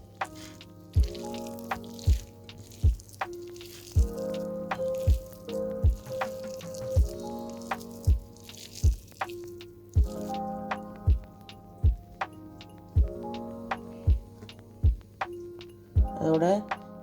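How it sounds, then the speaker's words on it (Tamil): Skinned shark flesh is squished and mashed by hand into a smooth mix, giving a run of wet, squelching presses at a steady rhythm with short drip-like pops, close and moderately loud. "சுறாமனை தோலை உரிச்சிட்டு கட்டி இல்லாமல் இப்படி பிசைஞ்சு எடுக்கணும்."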